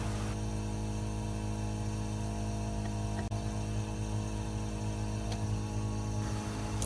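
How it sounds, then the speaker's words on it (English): A vacuum pump hums continuously and steadily during filtration in a gold recovery process from scrap RAM sticks, a loud, even mechanical drone with a brief dip near the middle. "Turn off the vacuum pump."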